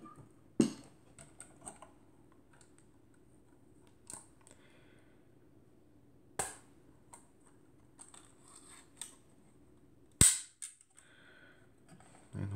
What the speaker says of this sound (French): si on veut le tester, hop, j'arme, je déclenche